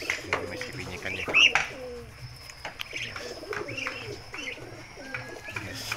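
Young Muscovy ducks give soft, rising peeping calls again and again, close by, with a few quiet background noises and faint voices.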